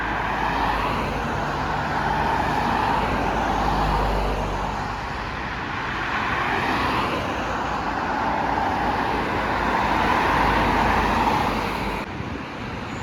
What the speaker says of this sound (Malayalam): ടൊയോട്ടയുടെ ഒരു ഹാച്ച് ബാക്ക് ഐഗോ, അതാണ് കേട്ടോ ഈ പോകുന്നത്.